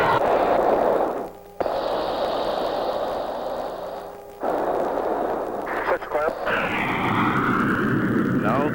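F-16 fighter jets of the Thunderbirds team flying a high-G turn at an air show, a loud, roaring jet rush that swells and fades as they pass, with a loudspeaker voice commentating over it.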